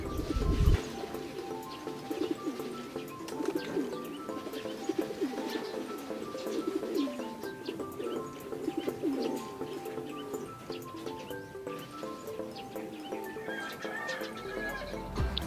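Racing pigeons coo softly at their home loft as birds return from a training flight and fun race, with steady low cooing and scattered bird calls continuing throughout, no talk.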